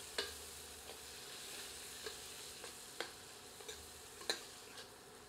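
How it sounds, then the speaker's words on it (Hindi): Turmeric and Kashmiri chili masala fries in a pan with a soft continuous sizzle, broken by regular light scrapes and taps of a spoon stirring, close and quiet with no voices. "सबको मिलाकर 2 मिनट भूनते हैं"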